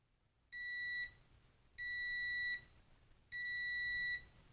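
Three identical high electronic beeps from a multimeter in continuity mode, each lasting about half a second to a second with short gaps between, sound while its probes touch points on a damaged DualSense BDM-020 controller board. A quiet room sits behind them.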